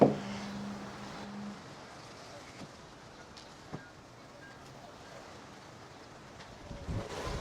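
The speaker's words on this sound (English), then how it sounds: "it's super windy today" Strong gusting wind outdoors beside a 4th Gen Toyota Tacoma during a hood lift install, a steady broadband rush with a few brief clunks and knocks, no talking.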